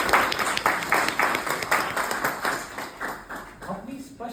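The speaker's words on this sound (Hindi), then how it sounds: "इनके लिए तालियां हो जाए" Audience applause at a live stage show by an illusionist and mentalist in India, a run of steady claps that thins out toward the end with a voice briefly coming through near the close.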